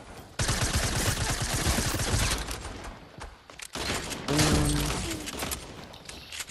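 Rapid bursts of gunfire in a Fortnite battle, including laser weapons, crackle loudly in dense volleys. A short lull comes before another heavy stretch of shots.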